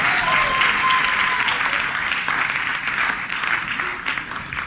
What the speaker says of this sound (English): You can applaud that, ladies and gentlemen.